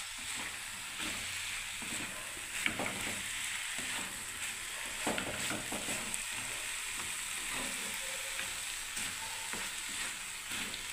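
Cabbage curry with lentil fritters sizzling steadily in a pan on the stove, a continuous close frying hiss with occasional stirring scrapes and soft clinks throughout.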